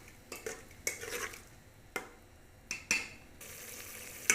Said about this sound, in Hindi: उसके बाद इसकी अच्छी तरह बुनाई करेंगे